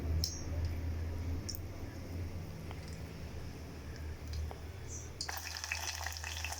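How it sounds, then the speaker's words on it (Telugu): Mustard seeds splutter in hot oil in a pan, a steady close sizzle broken by sharp crackling pops, with a louder burst of spitting near the end. "ఆవాలు ఏగుతున్నాయి"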